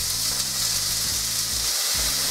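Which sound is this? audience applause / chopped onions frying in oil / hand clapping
chopped onions frying in oil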